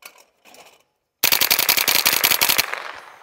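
A Tippmann M4 .22LR rifle loaded with Mini-Mag ammunition fires a long, rapid burst of around twenty close, sharp shots at skeet outdoors, after two faint earlier sounds and a brief pause.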